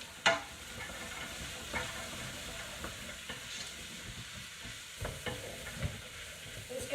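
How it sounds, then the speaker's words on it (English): Green beans being stirred into a pot of Italian minestrone, with soft scraping and knocks over a low sizzling simmer, fairly quiet with a few sharper clinks. "I'm going to throw them in"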